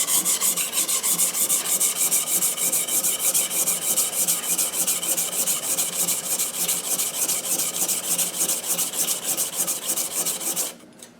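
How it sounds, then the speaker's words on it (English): A hand plane blade is worked flat back and forth on a coarse sharpening stone, a close, loud, rhythmic gritty rasping in quick, even strokes that continues steadily throughout before stopping at the very end. "Take your coarsest stone, put the blade flat against it, and work it back and forth."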